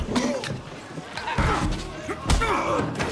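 A door slams shut with a loud, sharp thud partway through, amid a fight scene with voices and other impacts around it.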